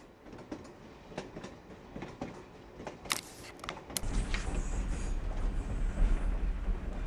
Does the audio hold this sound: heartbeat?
no